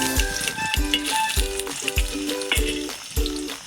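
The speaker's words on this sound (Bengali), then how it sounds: "এবার পনিরটা তেল গরম হয়ে গেছে, আমি পনিরটা ভেজে নেবো" Paneer fries in hot oil with a bright, continuous sizzle, punctuated by regular metallic knocks of a spatula against the pan roughly twice a second, close and fairly loud.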